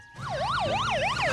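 A cartoon police car siren wails loud and close in a fast, rising-and-falling whoop that repeats steadily throughout, with no talking over it.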